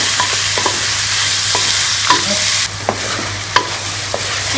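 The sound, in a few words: chicken frying in a pan with onions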